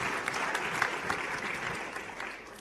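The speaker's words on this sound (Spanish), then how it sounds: "Un aplauso, por favor" Audience at a panel discussion applauds a speaker, a steady dense wash of many hands clapping that stays even and sustained throughout.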